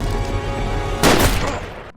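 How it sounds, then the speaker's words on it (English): Gunfire in a film shootout: a rumbling tense backdrop gives way to a sudden loud burst of shots with a booming echoing tail that fades out. "A heated exchange of gunfire ensues between them"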